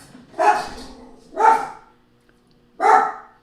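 A neighbor's dog passing by gives three sharp, separate barks at irregular intervals, fairly close and clear, with quiet gaps between them.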